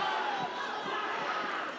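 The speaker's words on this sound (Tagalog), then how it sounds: "The crowd reacting to every solid punch that is thrown and connected." Arena crowd at a professional boxing match reacting to punches thrown, a sustained roar of cheering and shouting that swells and holds, with a commentator talking over it.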